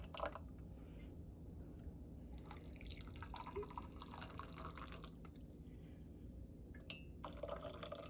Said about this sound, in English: I'm going to pour like it's a nice double shot of espresso.